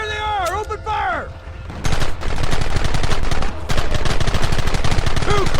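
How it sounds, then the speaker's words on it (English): Gunfire in the Western video game Red Dead Redemption, loud rapid bursts of shots densely layered over a shouting voice and other game sounds, close and continuous after the opening. "There they are! Open fire!"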